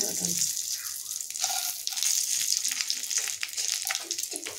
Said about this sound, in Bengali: এইগুলোকে ভালো করে আমি ভেজে নেব দিয়ে